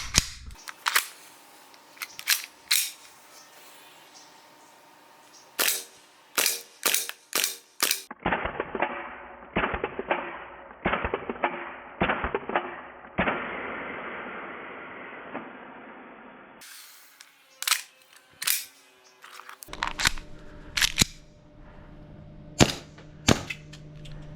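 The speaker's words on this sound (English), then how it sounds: "Let's go see if this thing actually shoots as well as it looks on the shooting test." An airsoft pistol fired during a shooting test, sharp close cracks in quick bursts and single shots, with a stretch of hissing noise in the middle between volleys, no talk.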